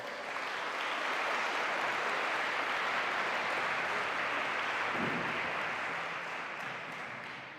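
A school awards-assembly audience applauds in a sustained, dense wash of clapping. It swells and then slowly tapers, loud and continuous, with no voices.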